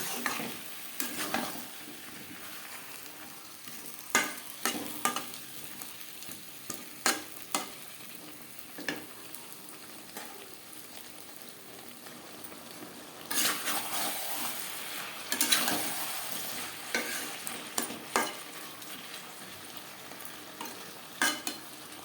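Potatoes frying with spices and a splash of spice water in a pan, a steady sizzle broken by repeated scraping stirs and clinks of a utensil, with a louder burst of hissing partway through, close up.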